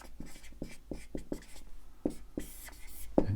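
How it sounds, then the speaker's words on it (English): Pen or marker scratching out handwritten notes, a series of short, close strokes in an uneven rhythm with small pauses between words, fairly quiet and with no one talking. "let me just write it down over here"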